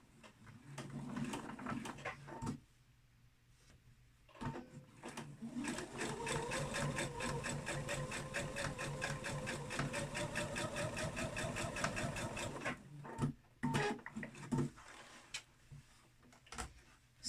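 Sewing machine stitching a homemade fabric face mask, a steady fast whirring hum of the motor and needle running for several seconds, with short stops and restarts around it, close and clear.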